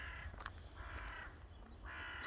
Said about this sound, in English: What's that crow on about up there?